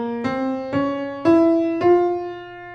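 F harmonic minor scale ascending, played as four clean struck notes stepping upward one after another, each sustaining briefly, close and clear with no voices.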